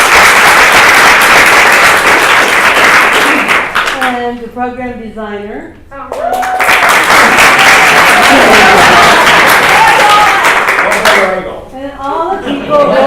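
Audience applause for the cast and crew of an amateur scenes-and-skits show, loud dense clapping that fills the room, breaking off while someone speaks over a microphone, then swelling again before fading under his voice.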